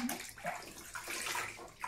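Water sloshes and splashes close by as a small child is bathed in a bathtub, a soft, continuous wash of movement with small surges.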